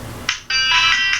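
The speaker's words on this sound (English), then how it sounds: "Ringtone." A bright electronic ringtone chimes in two short bursts with a brief gap between them, loud and close.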